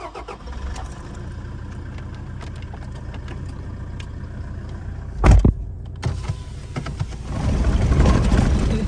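A car drives across desert sand with a steady low engine rumble, one sharp knock midway, then a louder, rougher surge of engine and sand noise near the end.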